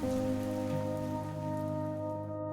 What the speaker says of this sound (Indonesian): Cherrapunji menerima hujan dalam jumlah ekstrem